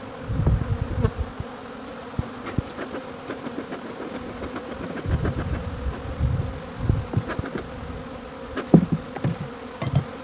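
Honey bees buzz steadily around an opened beehive during hive work, a dense continuous drone close by with occasional louder passes and light handling knocks, no talking.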